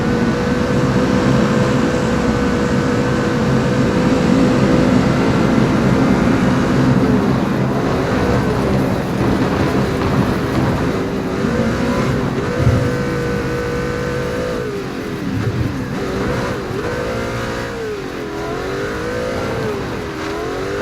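Motorbike engine in the video game PUBG, a steady loud droning roar with rising and falling revs throughout as the bike is ridden, with no talking.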